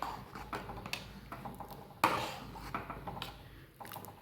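A spoon stirs thick sabudana and potato batter in a wide kadhai, making faint scrapes and soft metallic clinks with one sharper knock partway through.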